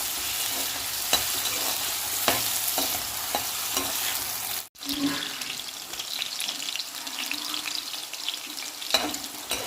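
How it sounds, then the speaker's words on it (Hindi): Potatoes fry in hot oil with a steady, crackling sizzle, joined by scraping stirs and a brief pause partway through. "दो 3 मिनट तक इसको हमने इसमें फ्राई कर लिया है।"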